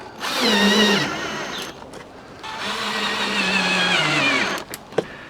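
Power drill driving bolts to fit a Jeep-logo panel onto an overlanding drawer system, two close, loud whirring bursts with pitch sliding as the bolt tightens, ending in a few quick clicks.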